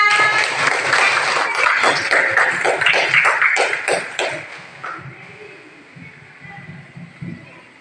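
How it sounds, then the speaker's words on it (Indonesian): Children in a classroom clap their hands in a rhythmic burst of quick claps that are loud and close, then thin out to a few scattered claps and a little background talking. "tepuk tangan dulu untuk anak"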